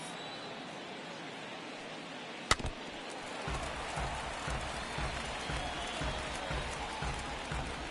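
A simulated stadium crowd in MLB The Show 22, Yankees versus Twins in the ninth inning, produces a steady, diffuse murmur with a faint patter like scattered applause. A single sharp click stands out partway through.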